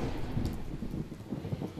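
Steady rain with low rumbling fills a night mission in the video game Mechwarrior 4: Mercenaries, a dense, broadband wash heard faintly and continuously with no voices over it.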